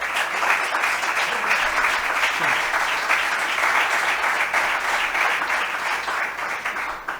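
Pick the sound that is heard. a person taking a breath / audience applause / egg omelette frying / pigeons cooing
audience applause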